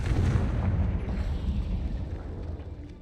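A Confringo fire spell explodes in the video game Hogwarts Legacy, a loud, dense blast rumbling and crackling steadily before easing off slightly, with no talk over it.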